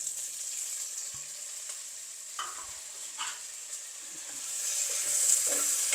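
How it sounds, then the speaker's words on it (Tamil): Drumsticks frying in a pan for a drumstick curry give a steady, soft, close sizzle with occasional stirring scrapes, swelling slightly toward the end. "இப்போ இதெல்லாம் நல்லா பொரியுது"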